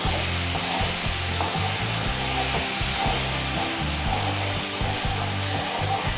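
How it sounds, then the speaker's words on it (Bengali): A ginger, cumin and chili spice mix stir-frying in mustard oil, a steady, close sizzle with scraping stirs under a constant low rhythmic hum, no talking. "মশলা কিছুক্ষণ তেলের মধ্যে নেড়ে চেড়ে আমি এর মধ্যে দিয়ে দেব ভেজে রাখা পটল ও আলুগুলো।"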